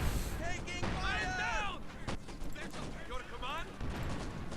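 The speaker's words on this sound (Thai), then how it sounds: "มายิงอะไรกูอยู่เนี่ย" Battle gunfire and explosions in the World War II strategy game Company of Heroes 2, set in Stalingrad, rumbling steadily with scattered shots as someone talks excitedly over the noise.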